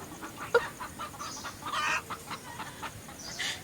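Chickens cluck in short, scattered bursts around a poor rural house with cows nearby, moderately close over a low, steady outdoor background, with no voices.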